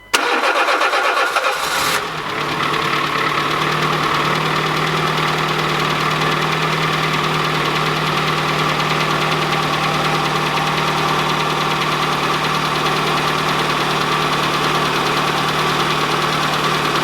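A Citroën C3 with a freshly rebuilt TU3JP engine cranks and catches within about two seconds, then settles into a loud, steady idle with a slight knocking edge that runs on unbroken, with no talk over it.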